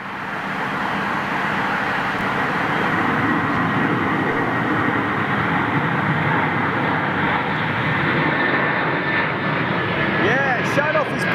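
A heavy jet airliner departing Heathrow low overhead gives a loud, rumbling roar that swells slightly and holds steady, with voices talking over the engine noise.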